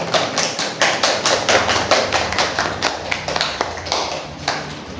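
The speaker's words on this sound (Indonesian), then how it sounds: "mari kita beri tepuk tangan untuk kelompok 2" A classroom of primary pupils claps for a student group, with quick rhythmic, closely spaced claps that gradually thin out toward the end.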